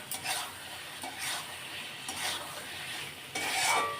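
Pointed gourd stirred into a sizzling spice paste for potol korma, with steady frying hiss and scraping stirs in bursts and a louder surge near the end, no voices.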